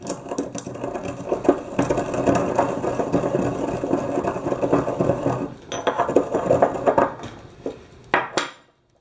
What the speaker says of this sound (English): so I'm going to go ahead and grind this up